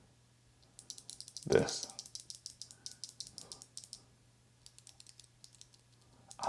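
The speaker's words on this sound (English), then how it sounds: "See, you can hear they already have that satisfying click." Clicky switches on a Keychron C2 hot-swap mechanical keyboard, a rapid run of crisp keystrokes close up with a brief pause midway, a short voice cutting in once near the start.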